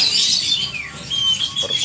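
Perkutut (zebra doves) call at a crowded bird venue, with bright chirps and whistled tones overlapping amid a busy background of many birds, fairly near and continuous.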